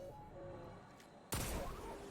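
A hand cannon fires once in Destiny 2 against PvE enemies, a single sharp, loud report that bursts out after a stretch of quiet game ambience and rings briefly as it decays.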